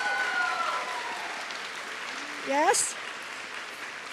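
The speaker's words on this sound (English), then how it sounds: "So give them another round of applause, please." Applause from an audience at a college commencement ceremony, a broad steady patter of many hands filling the hall, with a brief voice rising over it partway through.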